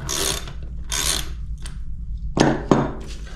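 A bicycle seat post clamp with bolts and knurled inner faces is worked apart by hand, giving a few bursts of gritty metallic scraping and sharp clicks, close and fairly loud, with short gaps between them.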